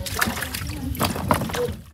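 Water splashes and trickles as potatoes with their skins on are washed outdoors for a Chiloé curanto, a close, steady sloshing with a voice talking briefly underneath.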